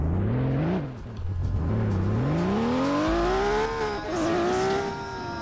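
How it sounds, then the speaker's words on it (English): Loud car engine revving hard, pitch sweeping up and down through repeated surges and shifts, close and dominant with a faint tire squeal. "This car is extremely loud."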